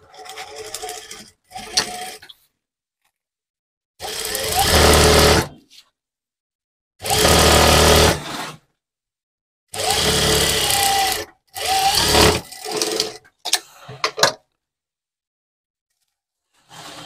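Sewing machine stitching a golden buckram strip onto a fabric bag, sounding in loud close bursts of rapid whirring separated by silent pauses.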